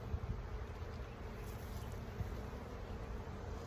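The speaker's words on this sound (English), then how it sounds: "Oh, I see lots of bees at the top." Dense, steady buzzing of many bees at the top of an opened beehive during a split inspection, a continuous low hum close to the microphone with no talking.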